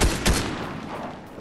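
Gunfire in the video game Fortnite, a quick burst of shots hitting the player followed by a fading rumble of continued fire, loud and brief with no talk.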